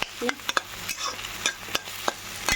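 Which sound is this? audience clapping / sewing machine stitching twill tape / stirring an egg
stirring an egg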